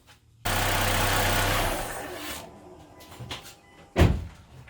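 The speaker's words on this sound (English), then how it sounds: "Start the engine, let it run for a minute" A car engine starts up with a sudden broadband rush and runs loud and close for about two seconds before fading, followed by softer clunks and a sharp knock near the end.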